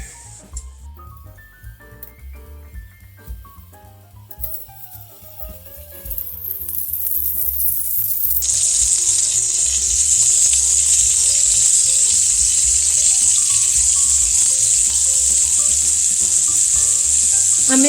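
Scallops searing in a hot skillet: a quiet kitchen with faint clinks and movement, then a sudden loud, steady sizzle that swells and holds strongly to the end as the scallops hit the pan.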